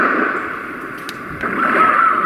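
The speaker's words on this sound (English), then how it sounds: "The waves are crashing." Synthetic ocean waves from a Roffie white noise machine: a steady broadband wash that swells slightly, with soft surges, alone and fairly loud.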